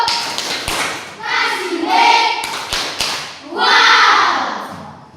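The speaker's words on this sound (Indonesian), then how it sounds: "Kita beri tepuk wow untuk kelompok 1, 2, dan 3 atau kelas kita." A school class performs a rhythmic 'wow' clapping chant: a few sharp, loud hand claps punctuate children's voices chanting in unison nearby.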